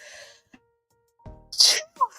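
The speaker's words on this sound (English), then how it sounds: "Hold on, I have to sneeze." One sharp, loud sneeze bursts out after a quiet pause, preceded by a drawn-in breath and followed by a short vocal exhale.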